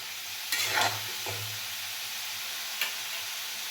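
Potatoes fry in hot oil in a pan with a soft, steady sizzle, broken by a couple of sharp scraping stirs near the start and one brief clink later.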